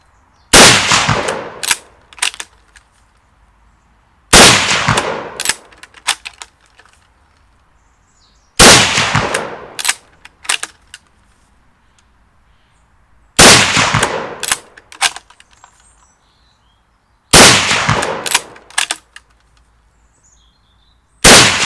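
An Australian International Arms M10 Lee Enfield No4 Mk2 bolt-action rifle fires round after round outdoors, with loud sharp cracks in clusters about every four seconds, each followed by bolt clatter and quiet gaps.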